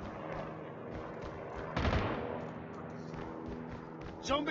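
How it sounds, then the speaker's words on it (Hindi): Gunfire in the mobile shooter Call of Duty Mobile, with a loud burst of shots in the middle and another short crack at the end over steady game ambience, while voices talk. "गोली चल रहा है लाल वाला घर के पीछे"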